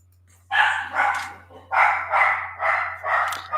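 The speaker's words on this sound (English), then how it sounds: "Sorry about the dog." A dog barks six times in a steady rhythm, close and loud, over a low constant hum in an indoor room.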